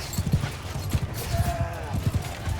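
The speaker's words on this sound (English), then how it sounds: "looks like their horse are starting to move in on my archers" Cavalry horses in the Mount & Blade II Bannerlord game charging toward archers on the battlefield, a rapid, rhythmic clatter of many hooves galloping at mid distance, with a brief whinny and battle noise behind it.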